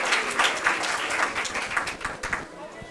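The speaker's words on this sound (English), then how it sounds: "So a nice round of applause for all of these people" A township council meeting audience applauding honorees, a short burst of clapping that stays fairly even, moderately loud, with voices mixed in.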